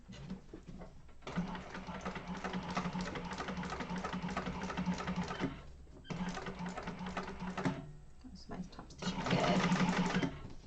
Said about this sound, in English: I'm just going to chain stitch them all at the same time.